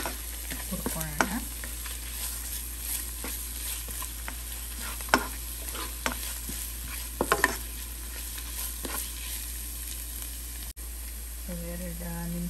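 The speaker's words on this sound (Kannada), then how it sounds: "ಸೊ ಇದನ್ನು ಅಷ್ಟೇ ಒಂದು ಹಸಿ ವಾಸನೆ ಹೋಗೋ ತನಕ 1-2 ನಿಮಿಷ ಇದನ್ನು ಹುರ್ಕೊಳ್ಳೋಣ." A paste sizzles steadily in a pan while being fried and stirred for capsicum chicken drumsticks, with occasional sharp scrapes and clacks of the spoon. A voice is heard briefly near the end.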